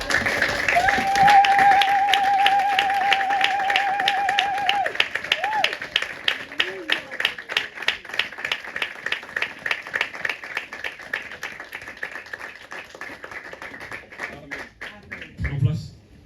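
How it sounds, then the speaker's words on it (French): Congregation at a French-language Sunday church service applauding the word of God, loud continuous clapping that gradually thins into scattered, slower claps, with faint music tones at the start. "Est-ce que vous pouvez applaudir pour la parole de Dieu?"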